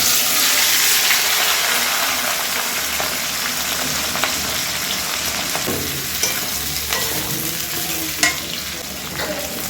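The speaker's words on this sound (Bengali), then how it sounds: "পেঁয়াজগুলো দিয়ে দেবো" Onions go into hot oil in a home kitchen and fry with a loud, continuous, close sizzle. Scraping stirs and small utensil clicks break through the sizzle now and then.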